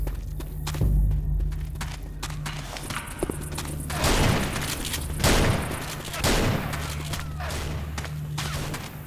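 Gunfire in the Counter-Strike map CS_Office, with bursts of shots scattered through the clip over constant game background noise and a few thuds that could be footsteps.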